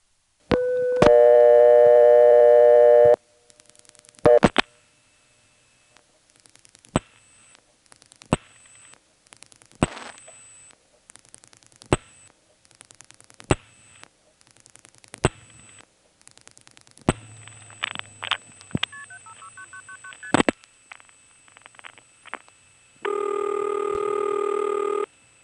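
A 1977 NX1 step-by-step telephone exchange in Farmville, North Carolina handles a 7-digit call, producing bursts of steady tone, rapid clicking pulses, long buzzy tones and brief beeps, heard alone without talk.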